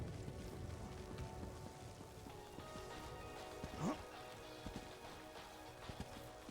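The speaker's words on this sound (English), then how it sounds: "It's raining." Steady rain falls in the Morrowind world of The Elder Scrolls Online game, a faint, continuous hiss with a short tonal chirp partway through.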